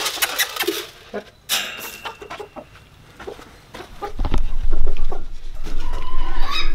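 Hungry chickens cluck in a coop at feeding time, with a series of short, uneven clucks and scratchy rustling, then a louder, busier stretch of low rumbling movement toward the end.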